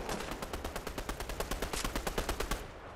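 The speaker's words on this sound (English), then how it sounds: "there's people shooting at that so weirdly" Automatic gunfire rattles in a video game, a rapid, evenly spaced burst of loud shots lasting a few seconds.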